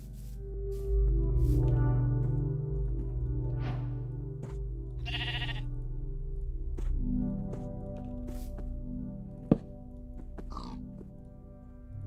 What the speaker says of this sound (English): Brown sheep and gray sheep.